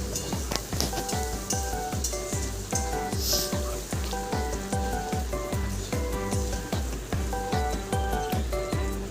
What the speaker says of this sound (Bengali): এখন এটাকে কম হিটে ভালো করে নাড়াচাড়া করে নিতে হবে, যাতে পেঁয়াজটা একটু নরম হয়ে যায় আর একটু ভাজা ভাজাও হয়ে যায়